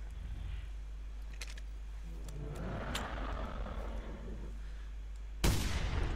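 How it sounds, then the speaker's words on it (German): A gunshot rings out in the hunting game TheHunter: Primal: one sharp, loud broadband blast near the end, following several seconds of quieter clicks and game noise. "Ich hab daneben geschossen"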